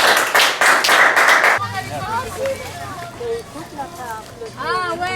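A church congregation claps for the Lord: a burst of loud, rhythmic group clapping lasting about a second and a half, then stops abruptly as people begin talking.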